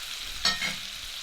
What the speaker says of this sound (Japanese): そこを重点的にアロゼ、油をかけてキュイソンを進めていきます。